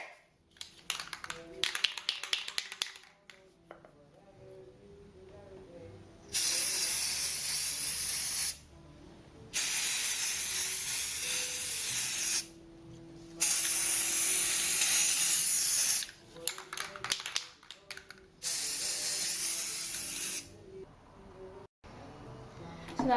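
Spray primer hisses from an aerosol can onto a powdery clay model in five sustained bursts, each lasting a few seconds, separated by short pauses and quieter handling sounds.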